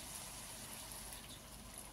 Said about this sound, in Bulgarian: Аз ще му добавя мъничко вода.